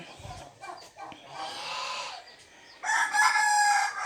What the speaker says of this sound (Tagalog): Oh, may manok pa.